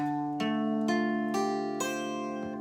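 A guitar chord is strummed on the five highest strings several times in a steady rhythm, each strum ringing bright and clear, close and moderately quiet.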